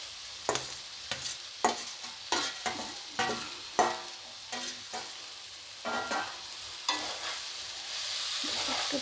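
Fried vegetables and tender drumstick stalks with sesame being stirred in a pan, a soft frying sizzle under about a dozen short scraping strokes of the spoon at an irregular rhythm, close and moderately loud with no voices.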